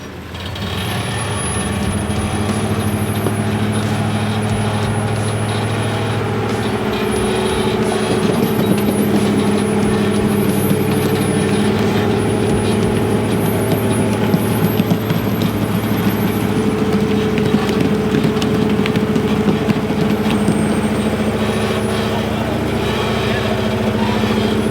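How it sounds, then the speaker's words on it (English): Off-road 6x6 wrecker truck scrubbing its tires while slow crawling at Horseshoe Falls, a loud steady engine drone with low rumbling and grinding tire noise sustained throughout. "just trying to scrub my tires down a little bit."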